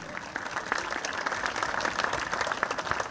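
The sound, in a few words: audience applause at arena opening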